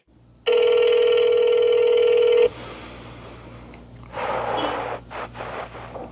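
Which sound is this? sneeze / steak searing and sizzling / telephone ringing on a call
telephone ringing on a call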